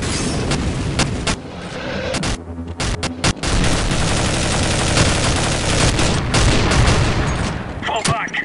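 Dense, loud gunfire with machine-gun bursts and booming blasts, a grenade explosion among them, in Counter-Strike 1.6 zombie escape gameplay; sustained rapid shots fill the whole stretch, with a shouted voice over the din.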